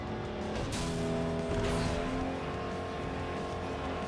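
Racing car engine in FlatOut Ultimate Carnage, a video game street race, droning steadily and loudly throughout with a brief surge near the middle and hints of tire noise, no talk.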